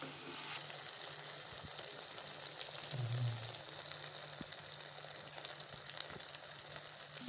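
Country chicken pepper fry being stirred in a pan over low heat, a continuous close sizzle with faint scraping of the spoon, steady and unbroken with no voices.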